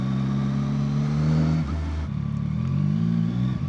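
A CFMoto 675SR-R (2025) motorcycle engine revs and idles close by, a steady low rumble that dips briefly midway before rising again.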